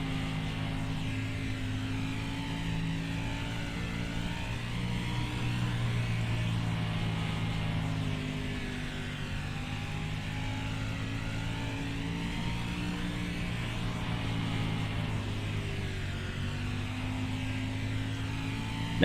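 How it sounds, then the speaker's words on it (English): Steady droning engine of a 305 sprint car in iRacing at Eldora Speedway, bogging down out of turn 4, a low, continuous hum with slowly wavering pitch and no talk over it. "As you can hear, the engine's bogging down coming out of turn 4"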